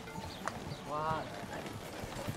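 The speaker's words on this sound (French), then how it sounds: "Ah non, c'est le cheval peut-être." Horse hooves clip-clop at an outdoor association fair, a few light distinct hoof strikes mixed with a brief whinny-like call while people talk nearby.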